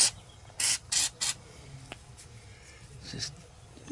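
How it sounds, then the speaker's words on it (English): Three short hissing bursts of lithium grease sprayed from a can onto a machine part, close and fairly quiet, followed by faint clicks and handling noise. "I think I'll spray a little on the outside too."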